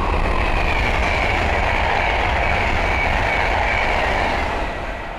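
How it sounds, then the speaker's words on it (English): A Class 390 Pendolino electric train roars past close by on the West Coast Main Line at Linslade, a steady broadband rush of wheels and air that holds loud throughout before easing slightly at the end. "the next train to pass by is an Atlanta West Coast Class 390 Pendolino"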